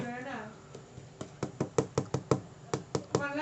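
About a dozen sharp knocks on a small, hard, hollow metal case for the game The Order: 1886 in a quick uneven run, with a voice briefly at the start and end.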